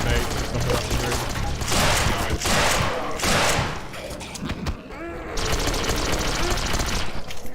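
Grenade blasts and sustained gunfire in Raising The Bar: Redux, loud and continuous with heavy booming surges and rattling fire, a brief lull midway, while someone talks over it.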